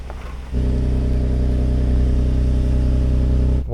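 A car engine under steady throttle while the brakes are held, crawling slowly over off-road terrain, a BMW or Porsche; a loud, continuous low drone that holds even for about three seconds after a brief quieter start.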